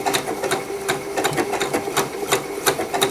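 A Janome sewing machine fitted with blind hem feet runs at slow speed, stitching a blind hem in a steady, close, rapid mechanical patter of needle strokes that continues throughout with no talking.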